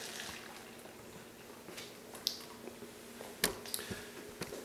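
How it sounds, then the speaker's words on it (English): Fresh vegetable juice is poured, giving soft, quiet liquid trickles and squishy splashes with a few small clinks, close and faint. "Pour the rest in there."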